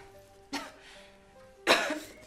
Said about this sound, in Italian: Ma adesso inizia a tossire.